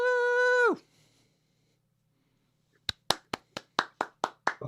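Scattered hand claps ring out after a sustained sung note cuts off and a short silence, about nine sharp claps in an irregular rhythm, fairly close and clear with no voices over them.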